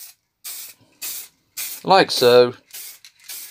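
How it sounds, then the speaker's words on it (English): Aerosol sealant sprayed onto the routed side walls of a recycled wood plaque: several short, close hissing bursts with pauses between, and someone speaking briefly in the middle. "I'm going to spray on some kind of sealant."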